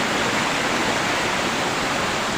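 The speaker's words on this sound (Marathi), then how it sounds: "पाणी सुद्धा खाली नदीला जातो बघा" Loud, steady rush of flowing water, like a stream or small waterfall pouring down to a river nearby in the Konkan countryside, constant and unbroken without any voices.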